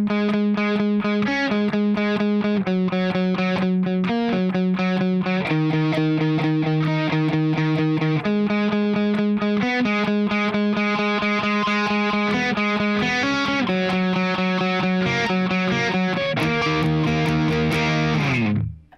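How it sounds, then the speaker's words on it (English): Slow distorted electric guitar riff, a pre-verse passage into the second verse, played with chorus-like effects as a steady, dense chord-and-note pattern, loud and unbroken throughout with no talking. "that pre-verse riff going into the 2nd verse sounds like"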